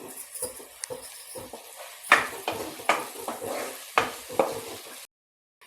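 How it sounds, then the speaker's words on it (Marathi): Spices are stirred into onion and tomato in a pan, with a soft sizzle under repeated scraping and clinking of a spoon against the pan, close and moderate in level. "धना पावडर परतून घ्यायचा आहे व्यवस्थित।"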